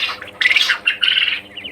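A quail gives a short run of loud, close chirping and squawking calls in a couple of quick bursts.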